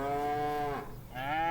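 Cattle on a farm moo loudly at close range, two long drawn-out calls back to back, with no voices.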